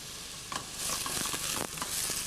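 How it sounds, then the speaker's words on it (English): Diced red onion, celery and garlic sautéing in a pan, a steady close sizzle with scattered stirring scrapes and taps of the spoon, no voices. "1 red onion and 1 stalk of celery, both of them diced reasonably well, a clove of garlic, and we're just going to saute this until it's tender."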